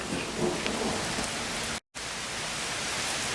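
Steady thunderstorm rain pours across the whole clip with low rumbling thunder underneath, broken by a brief gap of silence midway, with no voices.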